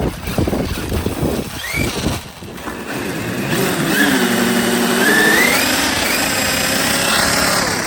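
The brushless motor of a Traxxas Summit RC truck whines and revs, its pitch sliding up and down with a high squeal, over studded tires rumbling on ice and some background voices.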